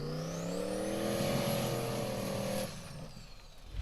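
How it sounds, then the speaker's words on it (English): A Formula Offroad car's turbocharged engine, already having engine issues, revs hard with a rising whine and turbo hiss, loud and close, then cuts off abruptly to leave quieter rumble. "Listen to that turbo"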